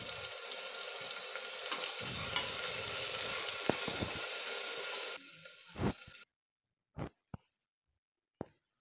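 Finely chopped garlic and tomato fry in a hot pan for a whole masoor lentil dish, a loud steady sizzle with stirring clatter that fades, then stops, leaving a few isolated knocks.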